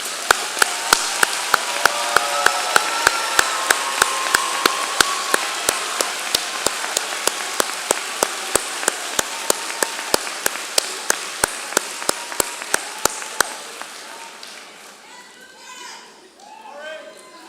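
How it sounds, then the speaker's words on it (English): A large commencement audience applauds first-generation graduates with dense, sustained clapping that fills the hall, then breaks off near the end, leaving scattered voices and murmur. "applause."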